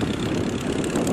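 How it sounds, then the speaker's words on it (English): Biplane propeller engine flying at Shoreham Airshow, a steady, loud, buzzing drone that continues through a brief moment without any break. "The Jungman, the figure of the two biplanes, being flown by Dan Griffith."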